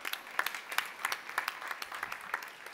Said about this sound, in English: Let's welcome on the stage with a round of applause,